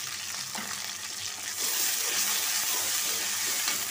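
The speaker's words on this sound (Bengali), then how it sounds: "আদা পেস্ট দিয়ে দিচ্ছি" Ginger and garlic paste frying in a pan for a pabda fish curry, a close, continuous hiss that swells louder about halfway through, with no voices.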